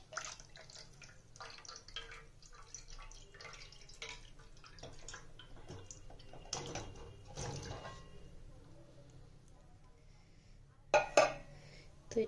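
Rasgulla poured from an opened tin into a pot, syrup dripping and splashing in soft irregular bursts with a brief clatter of the container against the pot near the end.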